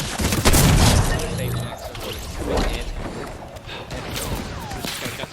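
Grenade explosions boom repeatedly in a Fortnite match, loud thuds and crashes mixed with gunfire and mechanical clatter.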